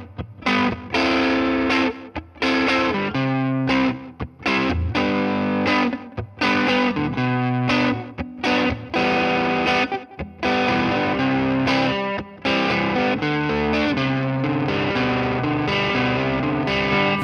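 Electric guitar rhythm part for a song, a driving, overdriven strummed chord pattern with choked stops, played loud and close for the full length with no talking.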